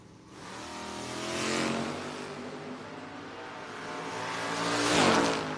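A second-generation Chevrolet Camaro drag racing in a no-box 660 shootout, its engine roaring loud and rising through two long revving surges with a harsh, strained edge, and no talk over it.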